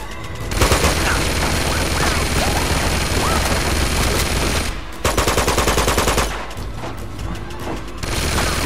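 Sustained automatic gunfire in Uncharted 2: Among Thieves, loud and dense rapid bursts with a brief pause near five seconds, then more firing.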